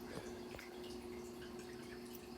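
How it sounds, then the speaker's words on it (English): Droplets fall from a siphon line used to acclimate blue shrimp into an aquarium: a couple of soft, close drips over a faint steady hum. "I have the siphon with some droplets."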